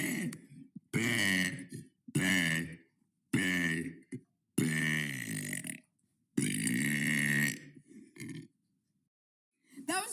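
A person lets out a series of long, loud, drawn-out burps, about seven in a row, each separated by a brief silence, close and clear.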